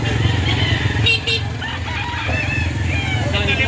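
A rooster crows at a gamefowl market in Padre Garcia, Batangas, the call rising over steady crowd chatter and a passing motorcycle, with people talking nearby.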